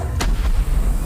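A single sharp cannon blast in a video game booms once over a steady low rumble, close and loud.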